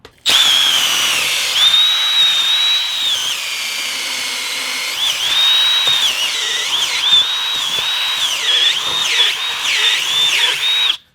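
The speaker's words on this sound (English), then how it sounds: "it's got a 2-inch coarse wire wheel just on my drill, so I'm gonna clean them out" A power drill spins a 2-inch coarse wire wheel, a loud high-pitched whine that wavers and dips as it grinds against metal while cleaning out the bores of car suspension parts, running steadily before stopping.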